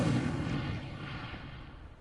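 A fiery Incendio spell bursts out in Hogwarts Legacy, a loud low whooshing blast at the start that rolls into a fading crackling rumble.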